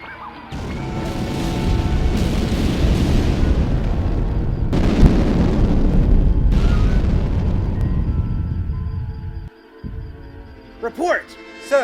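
Torpedo explosions in a starship battle hit in heavy booming waves, a deep rumbling blast that swells again midway and then rolls off, loud and close, with brief voices near the end.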